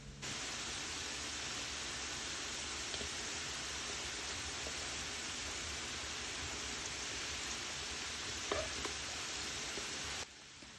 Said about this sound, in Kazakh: Енді картопты осы майда қызартып қуырамыз